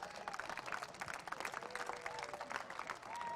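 A football-game crowd at a Moorpark Raiders versus Long Beach City Vikings match gives a hand for the cheerleaders, steady applause and clapping from a distant stadium audience with faint crowd noise underneath.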